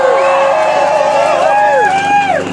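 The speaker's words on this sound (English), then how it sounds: "Give them a cheer." A crowd at a CND tribute gathering for Bruce Kent raises a loud cheer, with voices whooping and shouting hooray together, close and sustained.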